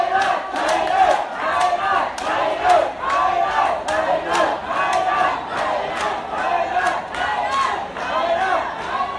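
A crowd of football fans shouts and cheers around a referee at a Chai Nat match, a dense, continuous roar of many voices with rhythmic chant-like bursts close by.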